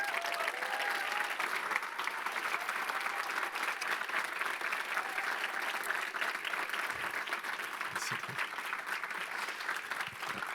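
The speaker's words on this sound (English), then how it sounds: "please give her a very warm round of applause" Warm, sustained audience applause for filmmaker Lucrecia Martel at a masterclass, a dense, even roar of clapping from a large crowd lasting about ten seconds with no break.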